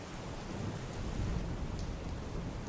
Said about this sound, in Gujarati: અમરેલીના જાફરાબાદ પંથકમાં પણ ધોધમાર વરસાદ વરસ્યો